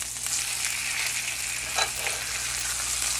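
Bone-in pork chops sizzle steadily in a hot pan just after being flipped. A loud, continuous crackling hiss is heard up close, with a brief spatter partway through.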